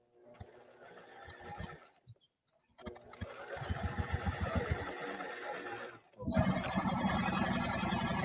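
A sewing machine stitches a curved case bag, running in steady bursts with short pauses between runs, close and fairly loud, with a person talking over it.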